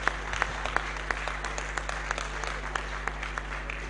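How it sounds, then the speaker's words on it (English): An audience at a university alumni association event applauds, a steady patter of many hands clapping at moderate volume over a low hum, with a faint voice in the background. "I didn't hear you clap."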